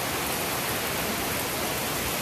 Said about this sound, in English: we just ran inside. Downpour, thunder, and lightning.